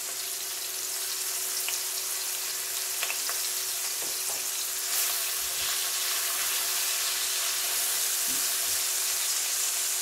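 Onions with salt fry lightly in a pan for potol bhaji, giving a steady, fairly quiet sizzle and hiss that holds evenly throughout, with a few faint clicks.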